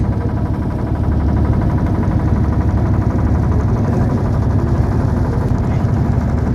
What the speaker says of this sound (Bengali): আমরা এখন বোটের মধ্যে চলেছি গঙ্গাবক্ষে